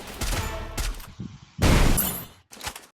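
Video game gunfire sounds in loud bursts of rapid shots separated by short gaps, close and punchy, with no talk during the shooting.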